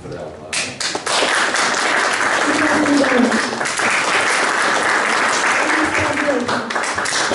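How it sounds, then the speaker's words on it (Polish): A school audience at an Independence Day celebration bursts into loud, sustained applause that fills the room, with voices audible underneath. "Brawa. Brawa."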